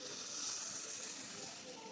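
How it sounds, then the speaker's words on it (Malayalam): Boiling water poured onto semolina (rava) frying in a pan gives a soft, steady hiss and sizzle, faint and continuous, with no talk. "തിളച്ച വെള്ളമാണ് ഞാൻ ഒഴിച്ച് കൊടുക്കുന്നത്."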